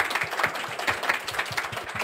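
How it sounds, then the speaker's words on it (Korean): An audience at a launch event for a high school math textbook applauds three teachers. The clapping is dense and steady, with a continuous wash of hand claps that holds at a fairly even level throughout. "우리 세 분의 선생님을 위해서 박수 한번 부탁드립니다"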